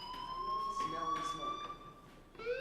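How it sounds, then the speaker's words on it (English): Fire alarm in the video game Life is Strange, a steady electronic tone sounding throughout at moderate distance, with a voice talking over it. "Hey, do you hear that fire alarm?"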